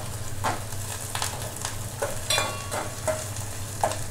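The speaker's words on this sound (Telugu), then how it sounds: "పచ్చిమిర్చి కూడా వేసేస్తున్నాను కొబ్బరి ముక్కలు సో ఇవన్నీ వేసి బ్రౌన్ కలర్ వచ్చే వరకు వేయించుకుందాం" Green chillies and coconut pieces frying in a pan: a steady close sizzle under a low hum, with several scraping stirs and light spoon clinks.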